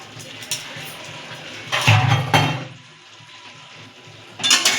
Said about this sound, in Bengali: চিনি দিয়ে এটাকে আমি আবার আরেকটু কষাতে থাকবো যতক্ষণ না তেলটা ছাড়ছে